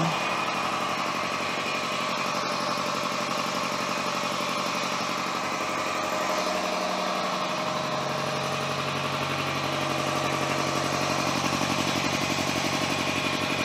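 A Kohands KC-752SN air compressor is switched on and runs, a steady loud motor drone with a lower pumping hum that settles in partway through and continues evenly, close up with no speech.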